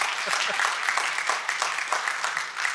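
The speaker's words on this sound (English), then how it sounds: "Clap your hands." Audience applause at a tech conference talk, a continuous dense clatter of many hands clapping at even strength throughout, with a faint voice underneath.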